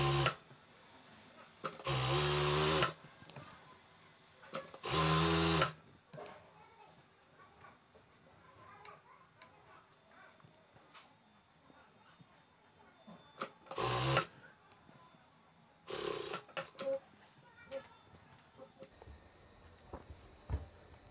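A sewing machine stitches a fabric pillow cover in several short, loud bursts, separated by longer stretches of quiet handling and low background noise.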